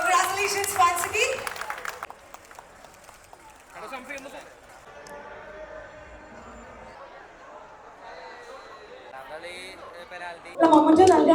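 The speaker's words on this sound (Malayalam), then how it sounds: "ഒരു നല്ല കൈയടി." Audience at a LuLu Mall Kochi football league winners' event clapping and cheering, a loud burst of applause at the start that fades under an announcer's voice, then swells again loudly at the end.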